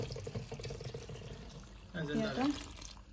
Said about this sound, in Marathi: आणि पाणी ओतून